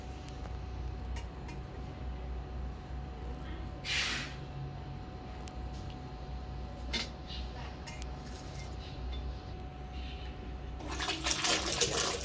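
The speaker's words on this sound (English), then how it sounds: "As you can see now, the water is reversing." Water forced backward through a home reverse osmosis filter membrane to clean it: a steady, faint rushing hiss with a low hum underneath, a few brief splashy bursts, and a louder surge of flow near the end.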